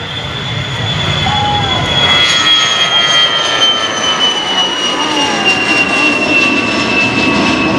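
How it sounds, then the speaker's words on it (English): A loud, sustained jet roar of an aircraft taking off at the EAA AirVenture airshow in Oshkosh, Wisconsin, with a whining high tone sliding slowly downward over a broad rumble, and a voice talking over it. "Now, look at the aircraft taking off now."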